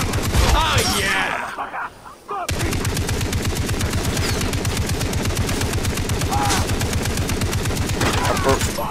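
Sustained automatic gunfire in the video game Far Cry 3, a loud continuous rattle of rapid shots running for several seconds, with voices talking briefly before it.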